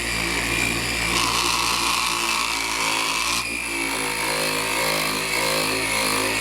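A buffing wheel polishes a repaired Ducati motorcycle fairing, a steady, loud whirring drone with a brighter, harsher grinding wash as the part presses against the wheel, continuing throughout without talk.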